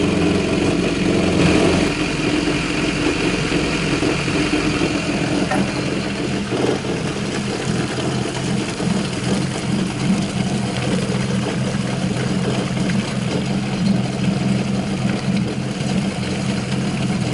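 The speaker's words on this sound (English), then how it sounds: "Now we're going to warm it up for 10 minutes." A Honda AquaTrax F15X jet ski engine idling while warming up on land before an oil change, a steady, loud mid-pitched drone running continuously with little change in speed.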